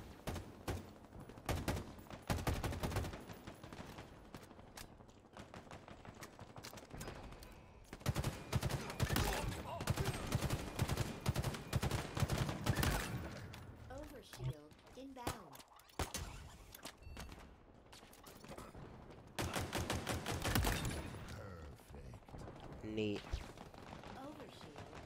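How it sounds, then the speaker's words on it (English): Assault rifle fired in a video game, with repeated clusters of sharp gunshots in fast bursts and single cracks, loud and close, with quieter gaps between volleys. "I love that it's so easy to just single fire the assault rifle"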